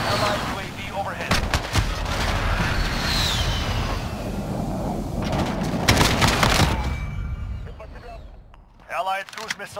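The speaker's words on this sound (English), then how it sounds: "Allied precision airstrike incoming." A precision airstrike and gunfire in the Call of Duty Modern Warfare beta: rapid bursts of shots and booming blasts, with a voice speaking over the combat noise before a brief lull and a final burst.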